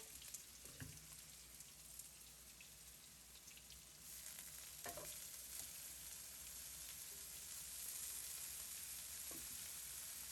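Pork and broccoli stir-fry in a pan with a steady, fairly faint sizzle that swells slightly later on, broken by a few soft knocks of stirring.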